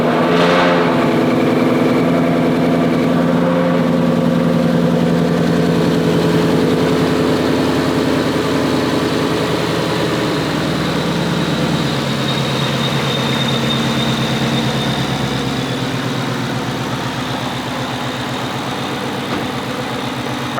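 Ford Mustang with a Roush Stage 3 supercharged engine and a ported blower, starting up and then idling steadily with a loud, deep, continuous rumble up close.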